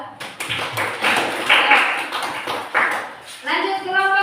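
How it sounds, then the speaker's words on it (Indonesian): Scattered clapping from a fifth-grade class comes in uneven bursts, with voices talking over it and a short tonal chime near the end. "Tepuk tangan buat kelompok 2."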